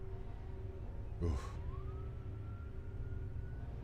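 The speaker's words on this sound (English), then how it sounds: "Sorry again for the sirens." Emergency vehicle siren wailing outside on a loud street, a rising tone that sweeps up and holds, faint and distant under steady traffic rumble.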